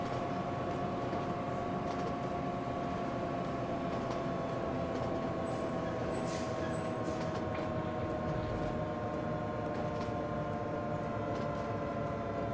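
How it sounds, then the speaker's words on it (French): A TGV high-speed train in the video game Transport Fever 2, running through a tunnel with a steady, loud rumbling roar and a faint high squeal partway through. "Et on croise le TGV pour Toulon."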